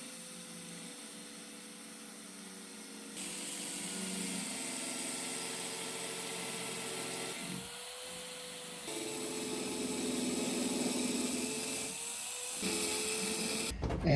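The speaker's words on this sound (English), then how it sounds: "we're just gonna grind those heads off, slide it out" Bolt heads on a truck being ground off with a power grinder: a steady, close, high mechanical whine that shifts in pitch and intensity as the load changes, with a few brief pauses and no talking.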